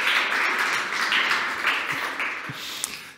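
An audience at a Tallinn civic launch event gives a full round of applause, a dense, steady patter of many hands close by that holds for about three seconds and thins slightly toward the end.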